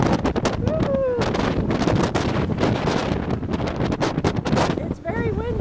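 Strong wind buffets the microphone on the open deck of a cruise ship in Alaska, a constant loud roar with gusts, while people talk and call out over it.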